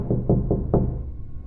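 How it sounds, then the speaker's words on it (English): A soft knocking at a door heard alone in a quiet home: four muffled, evenly spaced knocks, close and low, followed by a brief pause. "That soft, persistent knock."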